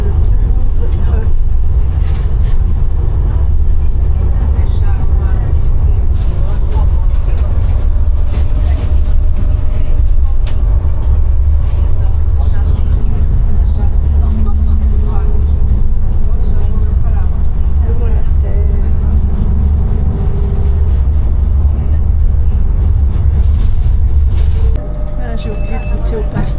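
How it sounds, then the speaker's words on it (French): Steady low rumble of a Lisbon tram on line 15E heard from inside, loud and continuous with rattling and rolling noise throughout, a voice speaking over it. "Je suis dans le tram, le 15E."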